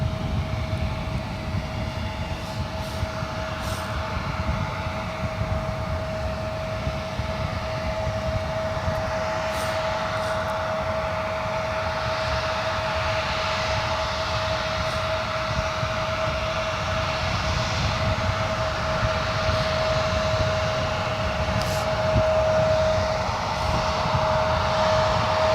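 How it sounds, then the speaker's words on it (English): An Alaska SkyWest Embraer E175 LR jet at San Francisco International Airport gives a continuous broad engine roar with a steady high whine running through it, sustained and even throughout, heard from a distance without talk. "Says Alaska SkyWest, flight 3470, heading to Boise. It's an Embraer E175 LR."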